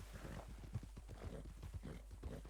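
In a video game, a slow horse walks with soft, irregular hoof clops, fairly quiet and close, the footfalls spaced unevenly over a low background rumble.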